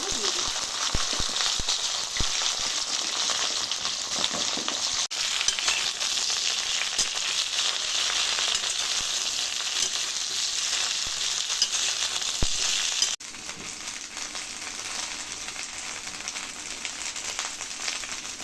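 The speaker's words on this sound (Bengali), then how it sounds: "তেল গরম হয়ে গেছে এবার আমি ফোড়নে মেথি দিলাম কাঁচা ফোড়ন হয়ে গেছে এবার কেটে রাখা ভেন্ডি" Cut okra fries in hot white oil tempered with fenugreek seeds, producing a loud, dense, continuous sizzle that eases slightly toward the end, with no clear speech.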